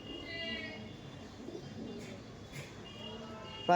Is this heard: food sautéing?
no